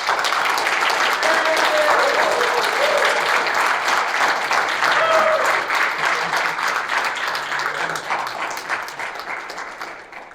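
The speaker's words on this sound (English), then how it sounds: "could we please just give them all a round of applause?" Convention audience applauding presenters after a gaming talk at PAX East 2022, a loud dense round of clapping in a hall that slowly fades toward the end, with faint murmurs underneath.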